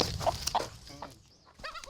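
Native Korean chickens cluck and squawk close by in short, uneven bursts, with a sharper call near the end, against quiet farmyard surroundings.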